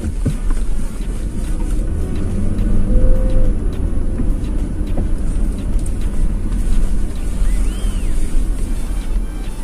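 A Toyota car driven along a road in Qatar, steady road and engine rumble with wind noise from inside the cabin, fairly loud and continuous with small bumps and passing sounds.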